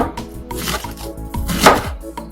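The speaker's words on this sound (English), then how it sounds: "we're gonna go ahead and cut our onions" Onions chopped with a knife on a cutting board for a smoked habanero hot sauce, quick uneven knocks of the blade striking the board, close and crisp, with no talking.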